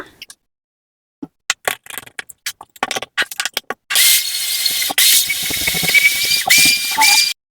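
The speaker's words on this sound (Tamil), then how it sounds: "வெட்டி எடுத்த இஞ்சியும் வெள்ளப்புடையும் நல்ல பேஸ்டா அரைச்சு எடுத்துக்கொள்ளுவோம்" A kitchen mixer grinds ginger and garlic into a paste. A run of sharp clicks and knocks as the jar is set in place gives way to a loud, steady whirring grind for the last few seconds.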